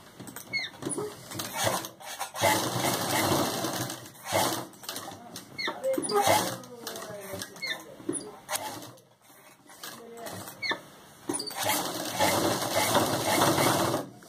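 Sewing machine stitching piping onto a lehenga choli neckline over buckram, running in bursts of mechanical whirring with short pauses between, with someone talking over it.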